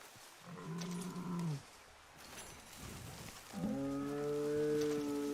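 A moose in Red Dead Online gives two long, low, moaning calls separated by a short pause, heard fairly close over faint ambient game sound.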